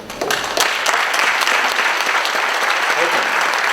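An audience applauds a new recruit joining the Pennsylvania Army National Guard, with loud, dense, sustained clapping that rises quickly and continues steadily throughout.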